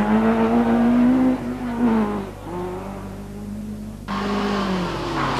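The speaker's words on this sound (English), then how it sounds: "And he's now not far behind Ernest Kidney and co-driver Peter Scott in that Datsun." A Datsun rally car competing in the 1983 Circuit of Ireland Rally, its engine droning loudly and nearby, with pitch shifts as it changes gear and revs climb again.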